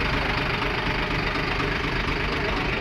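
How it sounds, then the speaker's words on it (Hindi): A BS3 vehicle engine, just restarted after repair work for water getting into it, runs steadily with a rough, knocking idle throughout, loud and close. "गाड़ी स्टार्ट हो गई है।"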